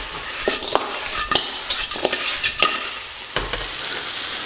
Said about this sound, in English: we want to stir fry this just so that the crab's nicely coated with all those lovely